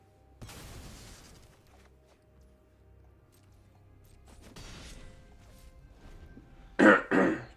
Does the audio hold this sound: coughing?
yes